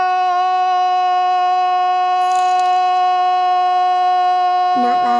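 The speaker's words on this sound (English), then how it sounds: "Not loud, just sounded like an air raid siren." A steady, loud tonal wail with stacked harmonics that holds one pitch throughout, like an air raid siren, with a couple of brief rattling noises over it.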